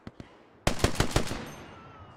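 A short burst of automatic fire in the World War II shooter Hell Let Loose, preceded by two faint distant shots, then four or five sharp loud close rounds fading into a ringing tail.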